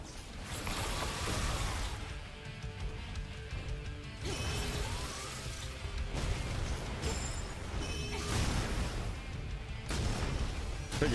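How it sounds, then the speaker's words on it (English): Missiles fire in Stellar Blade from a gun build, giving repeated whooshing launches and booms that overlap with mechanical clanks and ratcheting game effects in a dense, continuous combat mix, without talking. "So you start out shooting with missiles."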